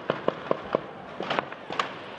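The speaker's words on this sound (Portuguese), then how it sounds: "Os tiros foram ouvidos de dentro da comunidade" A quick series of sharp gunshots, about eight or nine, in an irregular burst during a confrontation between police and drug traffickers in a Brazilian community, sounding moderately distant with no talking.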